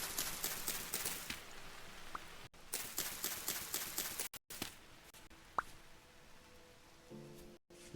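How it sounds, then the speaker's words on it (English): Light rain in the survival game Vintage Story, soft irregular patter and plops, faint and fading, with scattered small clicks and footstep-like taps throughout. "Seems like the rain's dying out again."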